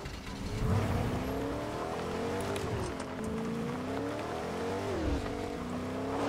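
A car engine in the video game Fortnite drones continuously, rising and dipping in pitch as it drives, with faint squeals and clatter in the background.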